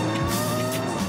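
Vintage Formula 1 race car engine, loud and close, with a harsh, sustained high-revving roar and no speech.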